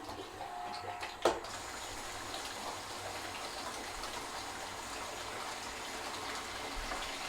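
A new reverse osmosis system starts up on maple sap, giving a steady, constant rush of pumped liquid and flow with one brief sharp knock near the start, and no speech.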